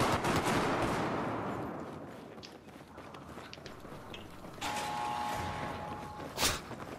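Battlefield 4 gunfire: rapid machine-gun bursts and scattered shots at moderate volume, thinning into a quieter stretch before a few sharper shots near the end, without speech.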